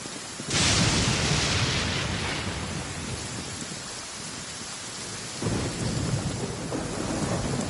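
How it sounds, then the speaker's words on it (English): Thunder cracks and rumbles over steady heavy rain in the video game Genshin Impact, with a loud strike at the start and another rolling boom later, rain hissing continuously between. "Don't stand too close to me, or you might get hit by lightning too."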